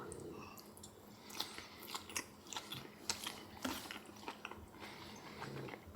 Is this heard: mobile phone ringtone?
no